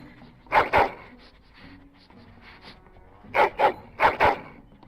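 A dog, modded to look like a wolf, barks in Dragon Age: Origins: two quick pairs of sharp, close barks, with soft whimpering sounds in the gap between them.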